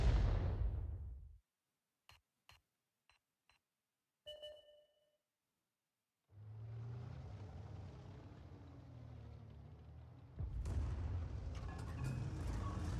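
Artillery shell fire in World of Tanks: a heavy booming shot that rumbles and fades, then a few sharp clicks and a brief ping, followed by a steady low engine drone and a louder burst of game noise.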